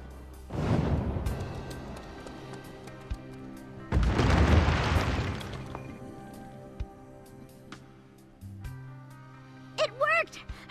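A statue is smashed in the video game Magna Carta 2, giving two crumbling, rumbling bursts a few seconds apart, followed by faint thuds and a brief high chime near the end.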